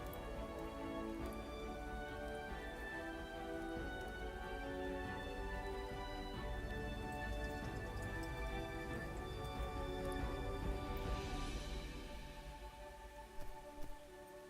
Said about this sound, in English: it really is raining and blowing